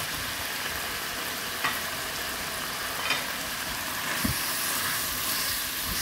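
Three-color capsicum being stir-fried in a pan, a steady close sizzle with faint scraping stirs at intervals, no voices.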